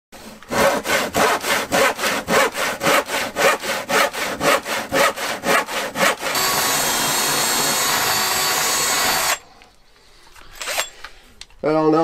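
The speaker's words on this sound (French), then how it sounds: "ce plan de travail là, ben, je suis en train de le couper" Handsaw cutting a wooden worktop in a van conversion, about a dozen loud rhythmic rasping strokes followed by a continuous grinding cut, then a brief pause with faint scraping and handling noises.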